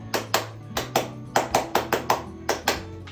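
Hands clap a dozen times in irregular bursts to switch lights on, crisp close claps spaced unevenly, some in quick pairs, with a faint low hum underneath.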